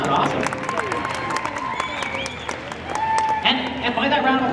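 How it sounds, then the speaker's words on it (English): Crowd applause and cheering fill the room, a steady wash of clapping mixed with whoops and crowd noise, loud and close throughout. "give yourselves a round of applause"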